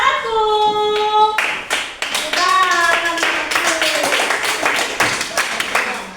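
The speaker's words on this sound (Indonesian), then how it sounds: "Kita beri tepuk tangan untuk kelompok 1." Classroom clapping for a student group at an Indonesian school, a short burst of hand claps with sharp taps mixed in, heard under and around voices of people talking nearby.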